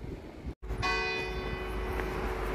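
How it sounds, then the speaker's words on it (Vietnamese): A church bell rings on the hour in Le Touquet, France, a single bright metallic strike with long ringing overtones that sustain and decay, heard outdoors against steady street ambience. "Tới giờ nó gõ chuông."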